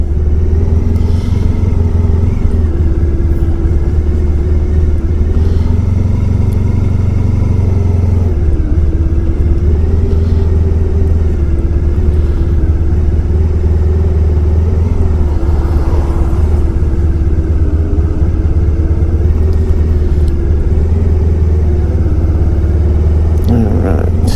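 A 1994 Honda ST1100 motorcycle ridden on a wet road gives a loud, steady engine drone with road and wind rumble, its pitch shifting slightly as it goes.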